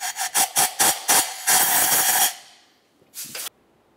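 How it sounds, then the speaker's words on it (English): Compressed air blows out the spark plug port on a 2004-2006 Scion xB engine, a run of short sharp hissing bursts followed by a longer sustained blast, then one more brief burst, loud and close with no talking. "it's always a good idea to blow out the port where your spark plug's going to be located"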